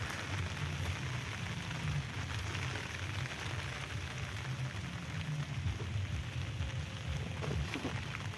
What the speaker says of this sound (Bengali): আকাশে যা বৃষ্টি হচ্ছে।